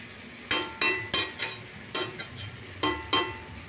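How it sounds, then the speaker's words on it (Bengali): Fried long beans and potatoes are tossed in a pan with a spoon: about nine sharp scraping clacks come in an uneven rhythm, close and fairly loud, over a faint sizzle, with no talking. "এরপর ভেজে রাখা বরবটি আর আলুটা দিয়ে দিচ্ছি। দিয়ে ভালো করে মিশিয়ে দেখুন"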